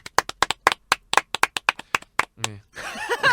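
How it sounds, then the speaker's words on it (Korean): Sharp hand claps from a few people in a quick, uneven burst of about fifteen, close and dry, followed by brief speech and laughter. "박수 한번 치고"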